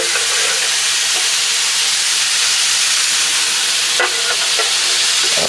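Steady, broad steam hiss rising off smoked Southern-style baby back ribs being basted, loud and continuous, with faint clicks and a small bump partway through.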